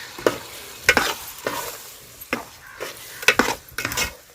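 Eggplant and water dropped into a hot frying pan and stirred, with sizzling and a string of scraping, clinking spoon strokes against the pan at an uneven pace, close and fairly loud.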